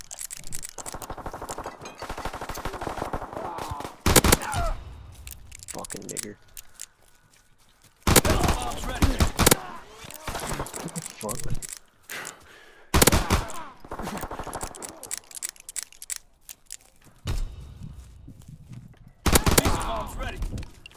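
Bursts of gunfire from the World War II shooter Call of Duty: WWII: rapid automatic volleys and sharp single cracks come in loud clusters separated by brief quiet gaps, with players talking between the shots.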